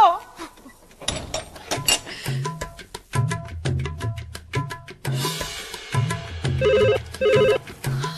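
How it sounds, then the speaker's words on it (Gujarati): A telephone rings repeatedly in short bursts over background music and clatter, fairly close and clear. "વારે ઘડીએ કોણ ફોન વગાડ્યા કરે છે?"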